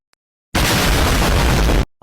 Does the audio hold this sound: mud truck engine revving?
no